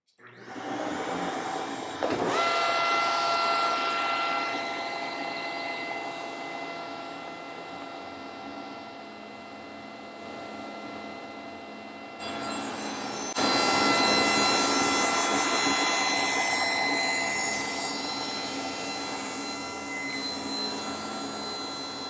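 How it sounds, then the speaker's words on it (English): A dust collection system roars up and keeps running while a saw spins up and cuts into wood about halfway through, raising a louder, harsher whine before easing back, all close and without talking. "I'm going to turn on the dust collection system and saw"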